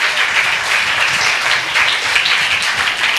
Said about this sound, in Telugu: క్లాప్స్ కొట్టండి ఒకసారి అందరూ